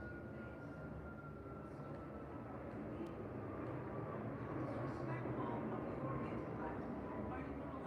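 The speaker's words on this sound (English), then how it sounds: "I'm tired of hearing the airplanes." Steady broadband roar of airplanes flying overhead, heard from indoors with the sound coming from outside, a continuous rumble slowly swelling in loudness over several seconds.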